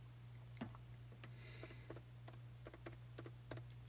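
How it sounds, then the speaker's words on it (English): Quick, light keystrokes tap on a computer keyboard in a music studio, irregular and close, over a steady low electrical hum with no talking. "Sorry, I was typing."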